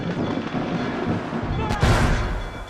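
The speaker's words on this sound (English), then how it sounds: "going to need to sink ships with these mortars" Mortar fire aimed at ships in Assassin's Creed IV: a heavy booming blast lands near the end over a steady rumbling game background, with a person talking throughout.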